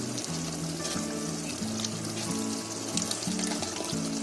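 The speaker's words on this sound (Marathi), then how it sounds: "ते आपलं कोफ्त्याचं भांडं त्याच्यामध्ये पाणी टाकून ते आपण थोडं टाकूया" Water is poured into simmering gravy in a cooking pot, a soft running pour mixed with gentle bubbling and sizzle, heard close and alone.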